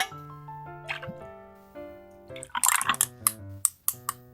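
Whisky poured over ice into a rocks glass while mixing a Good Cork cocktail, a close run of liquid plops and drips with ice clinks near the end, over a soft background tone and no talk.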